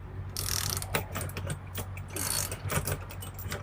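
Steering wheel puller screw being turned on a Peterbilt semi truck, a steady run of close ratcheting metal clicks and light mechanical rattles with a low background hum.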